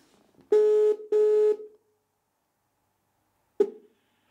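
Paid Skype phone call connecting, with two long steady ringback tones followed after a pause by a short electronic blip, clean and alone.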